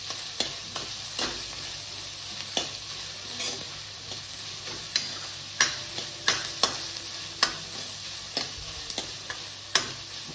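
Capsicum sautéing in hot oil for pav bhaji, a continuous close sizzle punctuated by sharp spatula clicks and scrapes against the pan at irregular intervals.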